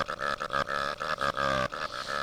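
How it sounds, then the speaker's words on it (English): Cartoonish burping selection sound effect from a Shrek video game, a loud, close, guttural belch broken into rhythmic throaty pulses, with no talk. "a video game greets me with earwax, burping selection noises"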